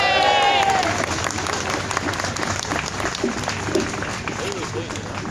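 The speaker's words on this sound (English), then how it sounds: "And a big applause for Mrs." A crowd at an outdoor rally breaks into dense, sustained applause with some cheering and crowd babble mixed in, a loud, continuous clapping wash that opens with a brief whistle-like tone.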